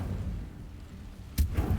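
A fire spell cast in a video game gives a sudden bright whoosh burst, followed by a low rumbling roar that carries on to the end.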